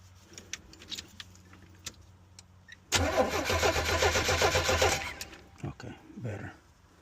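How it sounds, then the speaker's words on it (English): Engine of a 1986 Chevy Astro mini motorhome with wiring damage, cranking over on a jump pack: a steady rhythmic starter churn lasting about two seconds without catching, with faint clicks and handling noises before and after. "Let me see if I can get it to crank over."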